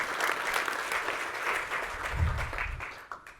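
A small group claps for a team in a steady patter of applause lasting a few seconds, fairly close, with a soft low thump partway through before the clapping thins out.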